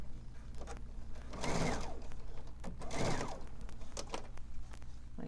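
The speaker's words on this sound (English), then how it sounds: "I'm going to put it in the machine. And I'm going to back stitch here." A sewing machine back stitching on fabric, heard as two louder bursts of stitching over a steady low motor hum with faint clicks between.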